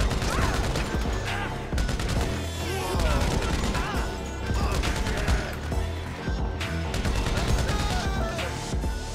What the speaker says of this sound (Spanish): Tengo que bajar por aquí y dar disparos